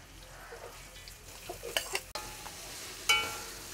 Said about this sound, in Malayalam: ഇതിലേക്ക് നമ്മൾ അരിഞ്ഞു വെച്ചുള്ള സബോള ചേർത്ത് വറുത്തെടുക്കാം